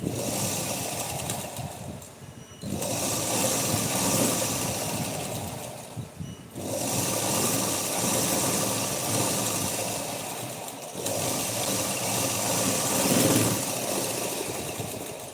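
Sewing machine topstitching blouse fabric: a motor whirring in three long runs, each several seconds long and separated by brief pauses, close and fairly loud with no talk.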